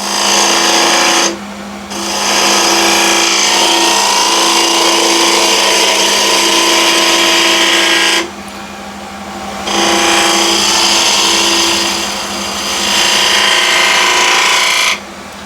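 A woodturning lathe spinning at 1600 RPM, a loud, steady mechanical whine with a low hum, cutting out briefly twice as the tool lifts, close and without talk.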